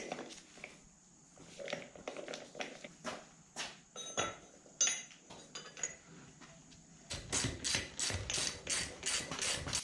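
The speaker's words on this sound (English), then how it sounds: "So this nut gets tightened down to 90 to 130 foot-pounds." A hand ratchet tightens a nut on a Jeep NV245 transfer case, producing sharp metallic clicks in irregular bursts, then a faster, steady run of ratcheting strokes near the end, close and fairly faint.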